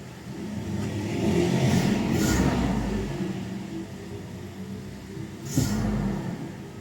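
A Toyota Revo VX200 engine idles after being started, its mid-pitched hum swelling and easing, with a couple of brief revs under a low rumble.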